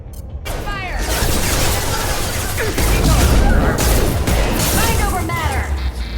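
Gunfire crackles through a Mass Effect 2 battle, dense bursts of weapon fire and impacts layered with sci-fi effects, loud and continuous throughout, with combat voices shouting over the din.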